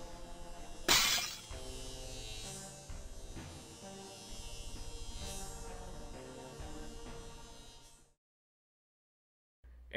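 Glass shatters in a crash from the indie video game GLASS as a character is smashed into a wine glass. A loud break comes early, followed by a sustained humming, buzzing tone that cuts to silence near the end.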